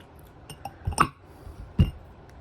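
Ice cubes slide one at a time into a glass, giving a few light clinks and knocks, the sharpest near the middle, followed by a duller thud, all faint against a quiet room.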